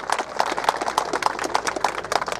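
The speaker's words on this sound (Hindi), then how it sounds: "पर तालियों में कंजूसी ना करें, जोरदार तालियां।" Crowd applause at a political rally in a village, with a steady run of rhythmic clapping from many hands, fairly near and even in loudness, no speech over it.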